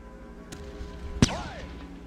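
A single sharp, loud artillery blast from a bombardment in the strategy game Shadow Empire, one heavy boom with a whistling, descending tail, after a fainter earlier thump over a low steady background.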